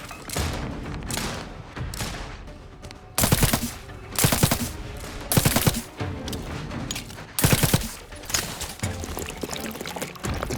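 Rapid automatic gunfire from a weapon in the video game The Outer Worlds 2, loud and near, coming in several sharp bursts over steady background game sound.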